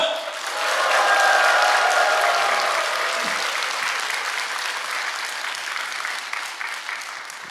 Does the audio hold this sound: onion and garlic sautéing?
no